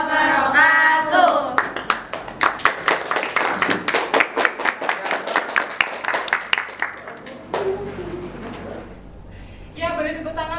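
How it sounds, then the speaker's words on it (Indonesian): A classroom of students claps for a student group after its presentation, a burst of many hands lasting several seconds before fading, with voices speaking before and after. "Ya, beri tepuk tangan buat kelompok 2 yang sudah mempresentasikan hasil diskusi mereka"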